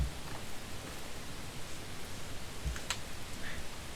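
Steady rain from a Japanese horror video game fills the scene as an even, broadband hiss with faint scattered taps and clicks, no talking.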